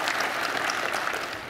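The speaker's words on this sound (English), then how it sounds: "If you think it's Salem, start clapping" An audience at the OSCON 2012 tech conference applauds in a steady, fairly distant patter of many hands, sustained throughout and fading slightly at the end, with no talking.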